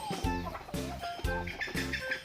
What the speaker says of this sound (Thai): ปล่อยให้ไก่เขาได้จิกคุยเขี่ยได้กินนะครับ